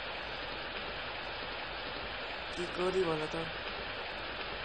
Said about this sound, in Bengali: আজ তো বৃষ্টি কিছুতেই থামছে না